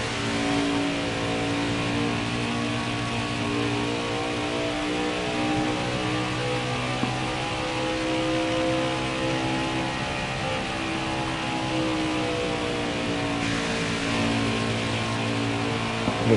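NASCAR Craftsman Truck Series trucks race at Charlotte Motor Speedway, their engines a steady, loud, droning roar with layered tones that shift in pitch partway through as the field passes, with no talk over it.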